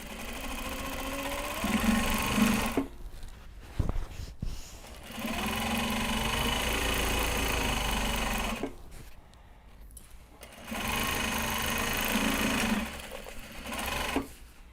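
A sewing machine stitches Japanese fabric tote bags, whirring steadily in three sustained runs with short pauses and small clicks between them, close by and alone.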